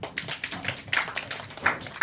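Scattered applause at a wine tasting event, a small group clapping in uneven, light bursts that fade and return over a couple of seconds.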